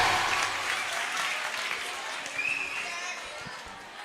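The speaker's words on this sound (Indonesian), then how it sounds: "Luar biasa, tepuk tangan." An audience of Islamic boarding school students applauds, a dense, steady clapping that slowly fades over a few seconds, with a faint voice underneath.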